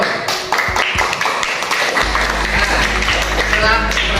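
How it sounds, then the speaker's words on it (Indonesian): Classroom students applauding groups 1 and 5 with scattered clapping that begins unevenly and then settles into steady applause under a low hum, with a voice talking near the start. "Yuk kasih aplaus untuk kelompok 1 dan kelompok 5 yuk."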